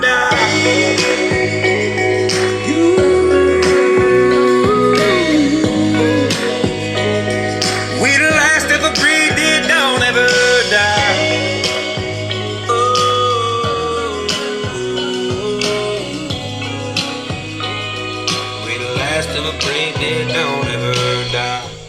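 Full-band music with vocals plays from an Ecoxgear Bluetooth speaker, loud and continuous for the whole stretch, with steady bass and drums under melodic parts, picked up by a nearby microphone.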